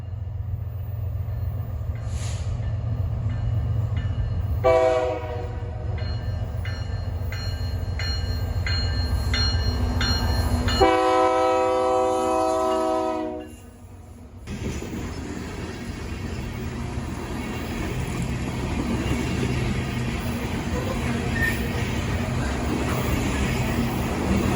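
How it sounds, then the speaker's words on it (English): A BNSF coal train led by an SD70MAC locomotive passes close by with a steady heavy rumble, and two horn blasts sound along the way, the second longer and louder, before the rolling noise of the cars carries on. "Another week gone, and a BNSF coal load is on the way."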